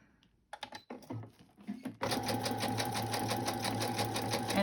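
A sewing machine stitches through pattern paper while a pocket is sewn, starting after a few seconds of soft clicks and handling noises and then running as a loud, steady, close mechanical whir with a fast rhythmic needle chatter.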